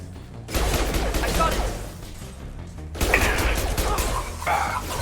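Gunfire bursts in a Mass Effect 2 Legendary Edition firefight come in two loud volleys, each lasting a couple of seconds, layered with game effects and someone talking over the action.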